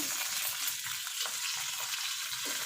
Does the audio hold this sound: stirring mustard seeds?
yes